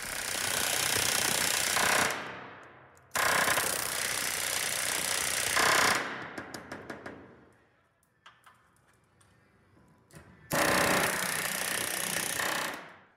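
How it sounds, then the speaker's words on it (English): A pneumatic rivet gun buck-rivets a composite panel section on a van trailer. Three long, loud rattling bursts hammer away, with short stuttering taps and quieter pauses between them. "Now, if you listen closely, you can tell the difference in pitch between when the rivet is being shot,"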